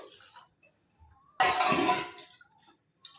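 Water poured into rice in a pot for cooking: a single splashing pour lasting about half a second, close and moderately loud, with quiet surroundings before and after.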